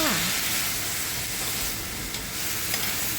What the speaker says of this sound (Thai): แล้วก็ผัดให้แตงกวาสลดหน่อยนะคะ